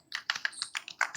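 Quick bursts of typing on a computer keyboard while entering a terminal command to start a Node.js server, about eight close, crisp key clusters in an irregular rhythm with no talk.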